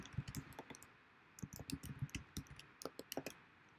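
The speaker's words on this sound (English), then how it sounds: "And then I'm going to type in the oils." Computer keyboard typing, faint and close, in two short bursts of quick irregular key clicks separated by a brief pause, with no talking.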